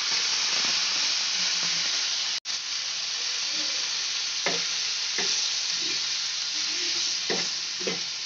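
Tomato pieces and apple frying for chutney in a pan give a steady close sizzle and hiss, broken by a few scraping stirs and one brief cut-out.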